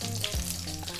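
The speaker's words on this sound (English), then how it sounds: "we're going to drop in our curry leaves, fresh curry leaves, which sometimes can be very noisy" Fresh curry leaves hit hot oil in an Indian potato mushroom curry pan, giving a loud, close, steady crackling sizzle for about a second, with no voices.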